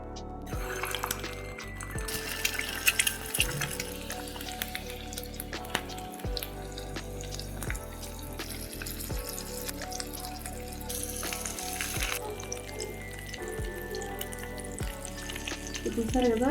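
An egg omelette fries in oil in a pan with a steady sizzle, and gentle scraping and stirring sounds run through it. Background music plays throughout, and there is some faint voice activity.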